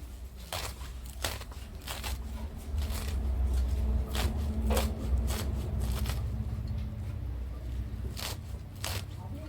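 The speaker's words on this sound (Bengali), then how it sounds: "এখন আমি কেটে নিচ্ছি শাকগুলোকে, কুচি কুচি করে কেটে নিচ্ছি।" Leafy greens being chopped finely with a knife, a string of crisp, uneven cutting strokes and rustles repeating at an irregular pace, close up over low background noise.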